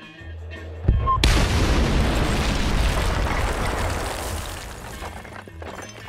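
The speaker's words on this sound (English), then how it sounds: "listen to how the music of the radio and the explosions interact" In the video game Battlefield: Bad Company, a loud explosion bursts in after a quieter stretch of car radio music, then rumbles and slowly fades across several seconds.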